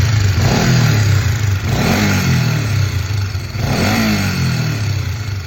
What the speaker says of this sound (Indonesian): ownernya ini ingin melakukan bore up ke 180 cc, tapi si motornya ini terdapat suara berisik kayak gini